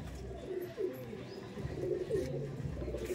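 Pigeons, a Madrasi breed pair, give soft, low, throaty coos in a close, repeating rolling rhythm, with faint background noise and no talk.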